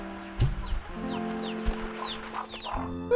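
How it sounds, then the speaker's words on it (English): Short hen clucks and chirpy squawks come from a farm chicken in the video game Slime Rancher 2, over a low droning game background, close and moderately loud. "That's a regular chicken."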